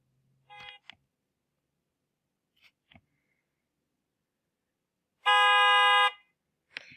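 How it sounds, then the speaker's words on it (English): A single loud, sustained car horn blast lasting under a second, preceded and followed by brief faint sounds and quiet gaps. "This thing over here is a car horn, and honk is the sound."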